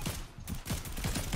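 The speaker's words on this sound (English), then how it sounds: "I see someone shooting at me" Rapid bursts of gunfire in the Fortnite video game, a quick run of close, repeated cracks in fast rhythm over roughly a second.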